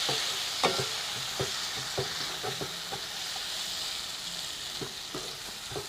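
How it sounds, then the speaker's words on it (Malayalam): Masala and chopped tomatoes sizzle in a pan, a soft steady frying hiss broken by repeated scraping taps of a stirring spoon, close and fairly quiet, with no voices. "ഇപ്പം നമ്മുടെ മസാലയൊക്കെ നന്നായിട്ട് മൂത്ത് വന്നിട്ടുണ്ട്"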